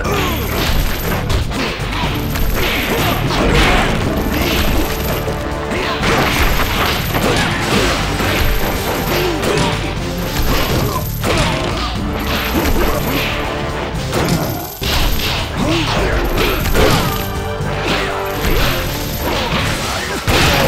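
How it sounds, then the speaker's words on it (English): Loud, dense crashing and smashing of objects breaking in the video game Kung Foo, repeated impacts and whooshes over a busy continuous game soundtrack, with no talk. "Beat enemies into objects to break them."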